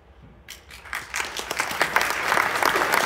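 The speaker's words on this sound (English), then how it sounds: "big clapping" Audience applause at the Nostriga unconference, starting from quiet and swelling into dense, sustained clapping from a sizeable crowd that stays strong to the end.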